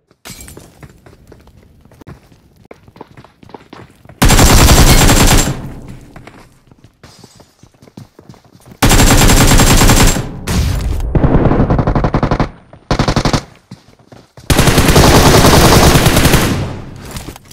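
An AKM rifle fires in a squad shooter game in several loud, dense bursts of automatic fire. Quieter stretches of gameplay noise fill the gaps, and one short burst sits between the longer ones.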